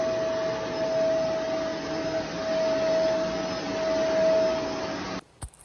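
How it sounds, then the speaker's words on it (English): A household vacuum cleaner runs steadily while tidying a room, a constant droning whine with a faint tonal hum, then cuts off abruptly near the end. "I'm gonna vacuum really quickly"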